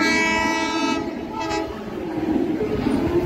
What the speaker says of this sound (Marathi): रेल्वे येते,